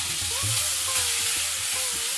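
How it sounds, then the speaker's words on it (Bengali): Chopped medium-sized tomato drops into spices sizzling in a frying pan, a steady loud hiss and crackle of frying with faint stirring scrapes throughout, no voices. "এবার দিয়ে দেবো কেটে রাখা মিডিয়াম সাইজের একটি টমেটো কুচি।"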